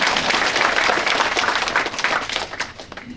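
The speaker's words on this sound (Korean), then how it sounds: "박수로 환영해 주시기 바랍니다" A crowd at an outdoor community concert in Sedo-myeon, Buyeo County, South Korea applauds steadily, a dense wash of many hands clapping that holds strong for several seconds before thinning slightly at the end.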